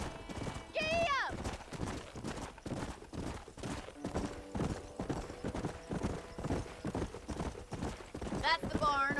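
Horse hooves clip-clop in a steady trotting rhythm in Red Dead Redemption, with a horse whinnying near the start and again near the end, the gait continuing close and clear throughout.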